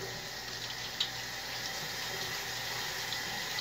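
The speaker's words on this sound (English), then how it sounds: "So we're gonna wash my hands." A kitchen tap runs steadily while hands are washed under it, a close, even splashing rush with no talking.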